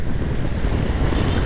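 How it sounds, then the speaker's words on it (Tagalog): Strong typhoon Carina wind and heavy rain roar steadily and loudly with buffeting gusts on the microphone, a dense, unbroken rush throughout with no voices. "lumakas na yung bagyo"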